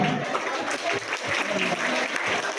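An audience claps at a school award ceremony, a dense, steady round of applause that holds evenly throughout.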